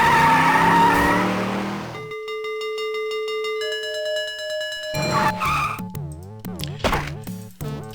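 Car surfing minigame in the Sam and Max Hit the Road video game: a squealing, skidding tire effect gives way to steady synthesized tones, then warbling, sweeping electronic bleeps and clatter.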